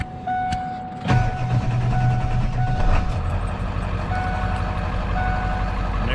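A 1995 Ford F250 XLT with the 7.3L Powerstroke diesel cranks briefly, then catches and settles into a loud, steady clattering idle close by, with no talking.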